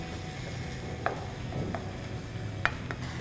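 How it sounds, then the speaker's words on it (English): Minced chicken sizzles softly in a hot pan with fish sauce and soy sauce as a utensil stirs it, giving a quiet steady frying hiss with a few light scrapes and clicks. "I'm going to add the fish sauce into this and some of the soy sauce, and we'll just stir this up a little bit more"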